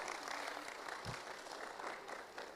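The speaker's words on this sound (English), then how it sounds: "Another round of applause for Ms. James, guys." A round of applause from the audience at a youth symposium, steady crowd clapping throughout, quite faint and distant-sounding, with no voices over it.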